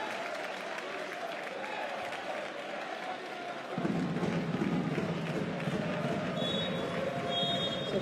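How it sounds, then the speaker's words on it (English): Crowd applause fills an indoor arena at a Basketball Champions League game between Nanterre 92 and Umana Reyer Venezia, steady clapping that swells louder partway through, with a crowd murmur beneath. "Applaudissements pour la sortie du Venezia out."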